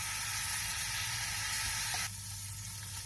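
Garlic and ginger frying in oil for a mustard greens tempering, a steady close sizzle that drops slightly in intensity partway through.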